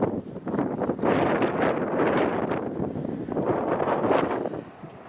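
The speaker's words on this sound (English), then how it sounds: "there's a little bit of wind, so that may add to it" Gusty wind buffets the microphone outdoors while walking along Warden Avenue in Scarborough, Toronto, a loud, rough rumble that swells and eases in waves throughout.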